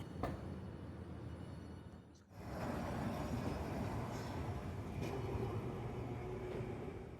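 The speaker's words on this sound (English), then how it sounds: "went to Inarimachi Station to film the trams going past the" A tram rumbles past near Inarimachi Station in Hiroshima, a loud continuous rolling drone with a brief dip and then sustained rail noise and faint squeal as the car passes close by.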